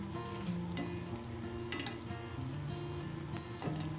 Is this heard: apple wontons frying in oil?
yes